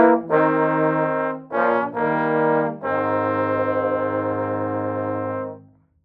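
A university marching band brass section plays the dogfight section of Hail to the Huskies in sustained, loud chords, a few short held blasts followed by a long final chord that fades out, with no voices.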